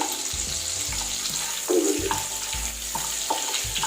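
Cashews fry in melted butter in a hot pan on a stove, giving a steady close-up sizzle with a few soft stirring scrapes and clinks over it.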